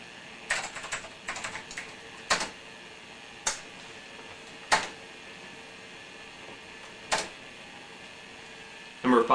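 Single keys clack on an old computer keyboard on a DOS-era PC: sparse, separate presses spaced a second or more apart, with a quick flurry at the start and a cluster at the end, close and clear.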